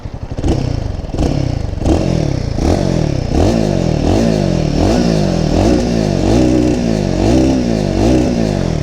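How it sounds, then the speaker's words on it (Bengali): Royal Enfield Guerrilla 450 motorcycle engine revved repeatedly against the rev limiter, loud and close, each rise in pitch cutting off with a stutter in a steady rhythm, no talking. "ইঞ্জিন নোটটা শোনাতে পারবো তোমাদেরকে"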